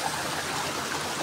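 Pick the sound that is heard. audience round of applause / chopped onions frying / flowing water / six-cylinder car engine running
flowing water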